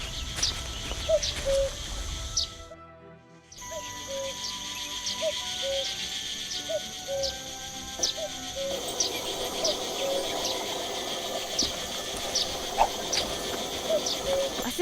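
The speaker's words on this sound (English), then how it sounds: "I think I can hear a cricket chirping in the barrel." A cricket chirping inside a barrel in the video game Night of the Rabbit, a faint steady series of short regular chirps repeating against quiet ambient background noise, briefly dropping out near the start.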